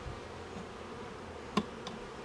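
Honeybees buzzing near an open hive during an inspection a few days after a split, giving a low, continuous hum, with a sharp click and a fainter tap from handling the frames.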